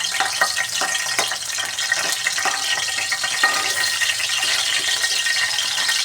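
Chicken pieces frying in hot oil for a chicken fry, a steady dense sizzle running throughout with occasional small crackles and utensil scrapes, no voices.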